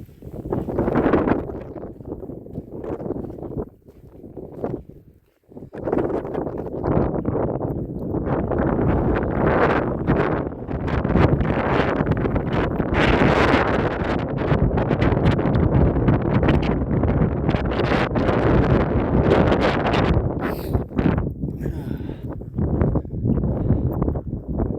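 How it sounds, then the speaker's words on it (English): Strong wind on a New Zealand hiking trail buffets the microphone with loud, continuous roaring gusts, easing briefly around the five-second mark before surging back. "The wind is not letting up."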